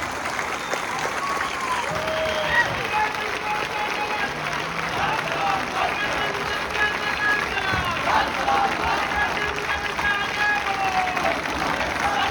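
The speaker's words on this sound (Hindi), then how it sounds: "तालियां, तालियां।" A large audience applauds continuously at a mass protest rally in Mumbai. Dense, steady clapping fills the space, with crowd voices mixed in throughout.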